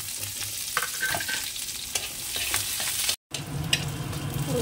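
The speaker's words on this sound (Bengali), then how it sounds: "এবার শাকটা ভেজে নেবো, তেল দিয়েছি, দিয়ে দেবো একটুখানি রাঁধুনি, আর দিয়ে দেবো রসুন আর কাঁচা লঙ্কাটা।" Garlic, green chilli and radhuni seeds frying in oil before red amaranth greens go in, a dense, close sizzle with crackling pops, briefly cut off before the sizzle resumes.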